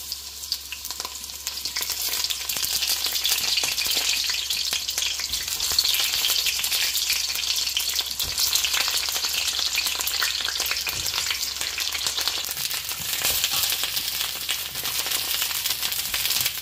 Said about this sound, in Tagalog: Ipapainitan lang natin ang mantika. Kung ipiprito guys ang talong,